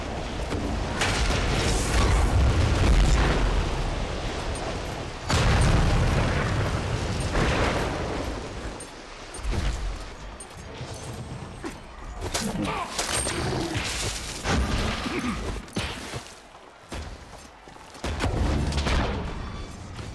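Vulcan's torrent and thumper explode in the arena mode of the game SMITE, with loud booming blasts and bursts of fire over dense battle noise, a voice talking through parts of it.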